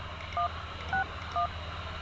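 Telephone keypad dialing tones in the video game TKKG: three short distinct DTMF beeps spaced evenly about half a second apart over a steady low background hum.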